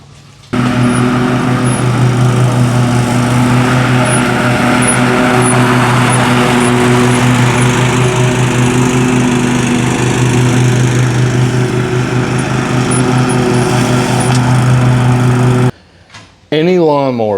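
A lawn mower engine runs steadily and loudly close by, its droning hum holding an even pitch for most of the clip before cutting off near the end, followed by a brief clatter.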